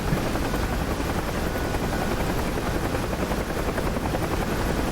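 A helicopter in a festive video game rescue mission makes a steady, loud rotor drone that runs unbroken for about five seconds with no talk over it.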